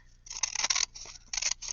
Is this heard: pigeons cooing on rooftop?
no